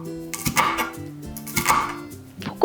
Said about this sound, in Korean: 반 썰고 얇게 채쳐주세요